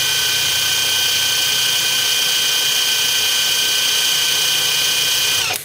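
A compact cordless impact wrench, a non-Makita tool, runs at full speed in a steady, loud, high-pitched whine that holds evenly for about five seconds, then cuts off abruptly at the end.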